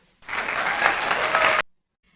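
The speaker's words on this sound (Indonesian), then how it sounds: "Beri tepuk tangan untuk Ilham." A classroom applauds a student in a religious education lesson, a short burst of brisk clapping from many hands that starts and stops abruptly.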